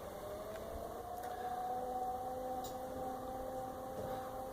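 A pottery wheel spins a pot with a steady, even motor hum and a faint whine, continuous and unchanging, with a few light taps.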